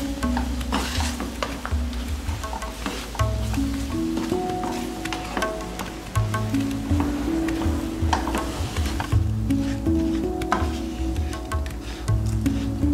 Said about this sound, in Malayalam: നമ്മൾ ഇപ്പോൾ ലോ ഫ്ലെയിമിൽ തന്നെ ഇത് ഇളക്കിക്കൊണ്ടിരിക്കുന്നത്.